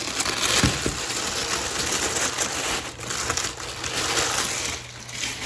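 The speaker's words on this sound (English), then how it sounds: "So you're going to want to unwrap your skates." Plastic packaging around new inline skates is pulled off, a continuous close crinkling and rustling with a few sharper crackles, no voices.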